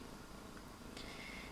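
A soft, low, steady purr from a cat close by, continuous and quiet, with a faint brief high sound partway through.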